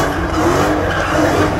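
A car drifts with its tires skidding and squealing, a loud, continuous, close roar of engine and tire noise that runs unbroken from start to finish.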